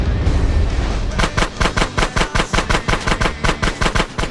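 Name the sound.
gunfire shooting out a gate in GTA San Andreas video game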